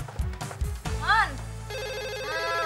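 A telephone rings in a repeating electronic trill that starts partway through and continues steadily to the end, following a few muffled knocks and a short tonal chirp, close and fairly loud.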